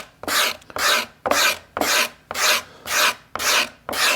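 A hand scraper carving the inside of an arched wooden archtop guitar plate, making rhythmic rasping strokes, eight in steady succession about half a second apart, close and clear with no talking.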